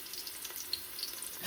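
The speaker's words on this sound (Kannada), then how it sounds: "ಈಗ ಒಂದು ಚಿಕ್ಕ ಈರುಳ್ಳಿನ ಕಟ್ ಮಾಡಿ ಹಾಕೋತಾ ಇದ್ದೀನಿ" Chopped onion sizzles in a little oil in a pressure cooker, a faint, steady frying hiss with small crackles and no talking.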